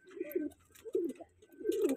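Several healthy pigeons coo softly in low, throaty, rolling calls, three short bursts close by in a quiet space.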